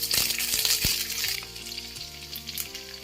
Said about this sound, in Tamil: கொஞ்சம் நல்லா ஒரு 5 நிமிஷம் நல்லா வறுத்து எடுத்துக்கலாம் எண்ணெயில்